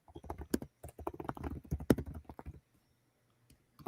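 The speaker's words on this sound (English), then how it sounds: "the aggressive typing" Rapid, forceful typing on a computer keyboard: a quick flurry of loud, close clacks for about two and a half seconds, then near silence with a couple of faint taps.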